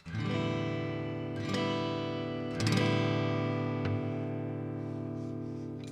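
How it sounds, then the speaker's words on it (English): Acoustic guitar strummed with a flat pick, bright and loud chords ringing out with three firm strums spaced a second or so apart, close up and sustaining, no voice over it. "here I am strumming with a flat pick."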